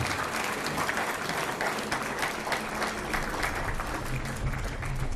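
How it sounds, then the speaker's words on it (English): Audience applause at an evening celebration honoring achievements, a dense, even clapping from a crowd that holds steady throughout. "Please, great rounds of applause for all these wonderful people."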